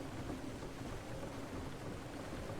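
Steady rushing water in Myst IV: Revelation pours continuously at a low, even level, a soft broadband wash with no breaks and no voices.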